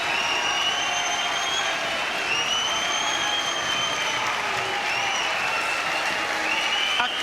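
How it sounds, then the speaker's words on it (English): A boxing crowd at York Hall, Bethnal Green, applauds and cheers at the end of a title fight between Martin Power and Ian Napa, with loud, sustained clapping and whistles filling the hall without a break. "the applause at the Yorkshire Bethnal Green."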